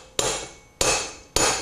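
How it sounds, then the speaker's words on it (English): A small brass hammer taps a gear down into a Powerglide planetary assembly with straight cut racing gears: three sharp metallic strikes about half a second apart, close and loud. "let me tap it down with my little brass hammer here"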